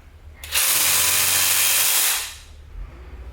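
A Dewalt one-handed short-stroke saw cutting a workpiece held in a vise, a loud, continuous buzzing rasp for about one and a half seconds that starts abruptly and fades out, with quiet before and after.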